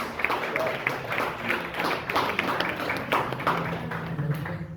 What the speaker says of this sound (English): A big round of applause, please, for the entertainment manager of Lancaster University back then, Mr. Barry Lucas.